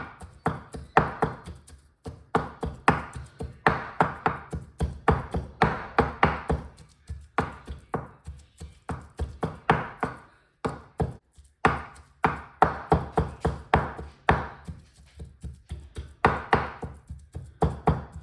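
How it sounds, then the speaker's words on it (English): Knife finely chopping and mincing ingredients for Thai fish cakes on a board, rapid close rhythmic taps in quick bursts with short pauses, no talk. "Chop them all up very finely, mince them best you can."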